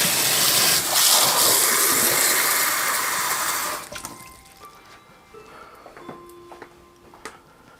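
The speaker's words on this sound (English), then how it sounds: "there's the water coming up" Water gushes up from a pipe or pump outdoors, a loud rushing burst that cuts off after about four seconds and leaves quieter drips and small knocks.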